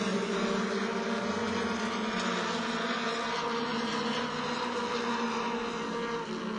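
Mod Mini race cars circling New Smyrna Speedway, heard as a continuous, fairly distant engine drone that holds level across the whole stretch with no talking.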